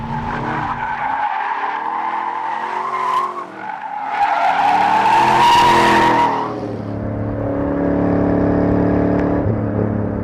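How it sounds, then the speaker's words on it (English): A 2013 Chevrolet Camaro SS 1LE's tires squeal loudly in a sustained power slide, engine droning underneath, the screech rising and holding for several seconds before easing into a steady roar. "it will go to a power slide like that really easily."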